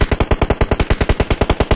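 Rapid automatic gunfire from PUBG Mobile, a steady burst of about seventeen evenly spaced loud shots with no pauses.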